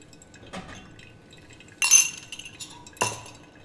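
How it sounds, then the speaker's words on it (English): A spoon stirs coffee grounds in water inside a glass brewer, giving a few sparse, bright clinks and scrapes against the glass, two of them louder, over a quiet room. "I'll agitate it with a spoon just to mix it through"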